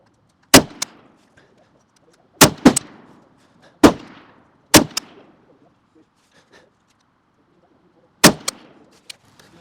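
Five sharp, loud L85A1 SA80 rifle shots fired with match ammunition at a 300 m outdoor range, spaced irregularly with short echoing tails and quiet gaps between them.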